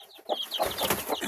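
Small farm chickens, young hens among them, cluck in a rapid, busy chatter close by, with overlapping calls filling the short stretch and no talk.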